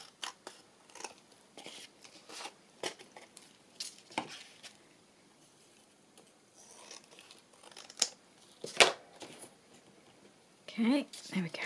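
Scissors snip paper Christmas gift tags in a string of crisp, close cuts spaced irregularly, with quiet paper handling between and a voice speaking at the end.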